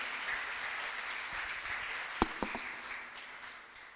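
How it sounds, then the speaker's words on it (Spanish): Church congregation applauding during a sermon, a steady wash of clapping that holds evenly with a few sharp nearby claps standing out midway, then gradually tapers off toward the end. "Apláudanlo al Señor."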